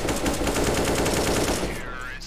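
Rapid automatic gunfire in a competitive shooter game, a dense, loud burst of rattling shots lasting about a second and a half before it cuts off.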